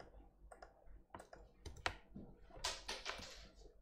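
Keys on a computer keyboard clatter in quick, uneven bursts of close clicks while someone types quiz answers, with short pauses between the runs of keystrokes.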